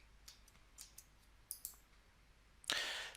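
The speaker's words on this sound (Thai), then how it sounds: "คลิกขวานะครับเลือก copy drawing to project" Several faint, crisp computer mouse clicks in a quiet room while working in AutoCAD Plant 3D, spaced irregularly, ending with a louder burst of rustling noise.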